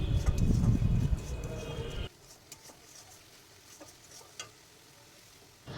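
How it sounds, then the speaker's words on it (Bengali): Spices and ginger-garlic paste sizzle and are stirred in a pan for a biryani, a dense loud frying hiss for about two seconds that then drops to quiet room noise with a few faint clicks. "আদা রসুনের পেস্টের থেকে খানিকটা পেস্ট নিয়ে এটা কিন্তু আমি ভালোভাবে কষিয়ে নেব"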